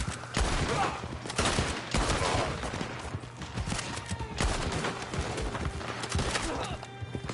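Scattered gunfire from a Western shootout in the video game Red Dead Online, with dense shots and bursts running throughout, loud and busy, with a few clattering impacts mixed in.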